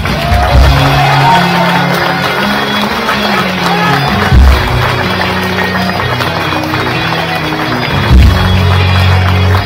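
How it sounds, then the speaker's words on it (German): A political rally crowd in Salzburg applauds and cheers for a party general secretary, a loud continuous wash of clapping and shouts with music pulsing underneath, sustained for the whole stretch. "Einen ganz, ganz großen Applaus für unseren Generalsekretär Michael Schneelitz"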